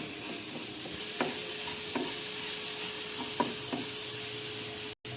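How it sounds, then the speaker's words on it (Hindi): Spiced potato samosa filling is stirred in a pan over low heat, giving a soft continuous sizzle with a few distinct spatula scrapes and taps, close up and with no talking. "अब इसको अच्छी तरह फिर हिला लेंगे। बस इसको थोड़ा सा ना हल्की आंच पे हल्का हल्का"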